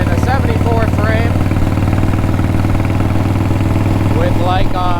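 A Harley shovelhead chopper, a 1971 engine in a 1974 frame, runs loud and close with a steady lumpy idle throb, while someone talks over it.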